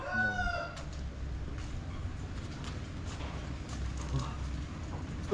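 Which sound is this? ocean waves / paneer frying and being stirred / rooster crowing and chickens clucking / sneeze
rooster crowing and chickens clucking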